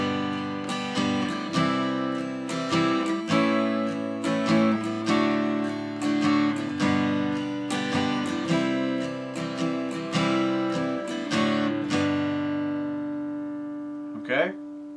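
Strummed guitar chords of "We Wish You a Merry Christmas" ring out in a steady, moderate rhythm, each strum bright and full, until the last chord fades and a short squeak ends it.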